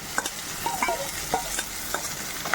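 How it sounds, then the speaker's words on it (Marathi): Cowpea pods stir-fried in oil with fried tomato, a gentle sizzle under repeated spatula scrapes and clicks, close and fairly quiet, with no talking. "आपल्याला तेलात परतून ही भाजी बनवायची आहे"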